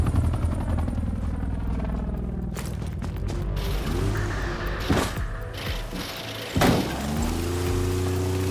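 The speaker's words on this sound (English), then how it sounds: "Escort the VIP to the exfil chopper." Exfil helicopter in Call of Duty Black Ops Cold War, rotor and engine drone mixed with mechanical clanks, whooshes and thuds of the game scene, moderately loud and continuous.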